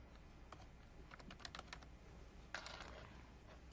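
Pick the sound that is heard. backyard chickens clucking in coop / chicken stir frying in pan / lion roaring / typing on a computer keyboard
typing on a computer keyboard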